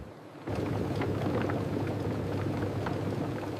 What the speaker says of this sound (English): High-pressure wash cleanses soil and debris for sterile start.